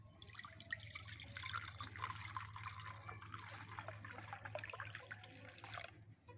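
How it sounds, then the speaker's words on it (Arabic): Water being poured into a dish for a thirsty rabbit, a soft continuous trickle and splash lasting several seconds, fairly faint with a low steady hum underneath. "هي عطشانة، سمعت صوت المية"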